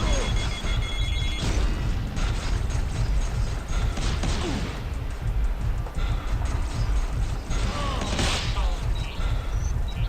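Blasts and debris crashes from grenade explosions in the VR shooter Mortal Blitz, loud and dense throughout amid continuous gunfire and game noise.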